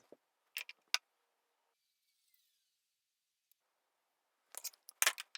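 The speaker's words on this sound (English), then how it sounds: "So now I'm going to cut my 10 threads, all the same length" Scissors snip through beading threads cut to equal lengths, a few crisp close clicks near the start and a quicker cluster of snips at the end, with near silence between.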